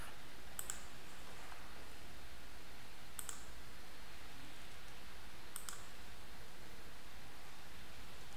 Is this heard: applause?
no